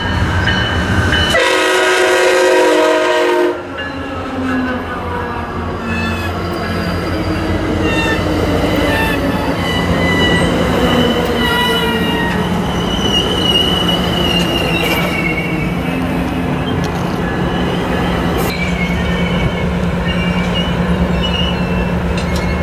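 MARC commuter train P877 arrives at Brunswick, a loud horn blast up front followed by rumbling railcars and sustained high wheel squeal as it rolls in close by, with no speech.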